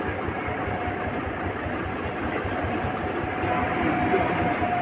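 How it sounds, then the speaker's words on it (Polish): An Intercity Morcinek passenger train bound for Wrocław rumbles past close by, a steady, dense rolling roar with a faint rhythmic wheel beat and a thin high tone running through it. "Intercity Morcinek do Wrocławia jedzie tuż obok nas."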